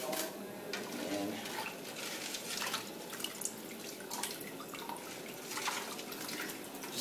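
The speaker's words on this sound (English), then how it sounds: "Just fill up the bucket, a couple of, maybe an inch, about an inch of water." Water runs steadily into a bucket in a kitchen, filling it to about an inch deep for a sweet and sour curry mix, a continuous close splashing and trickling with faint voices underneath.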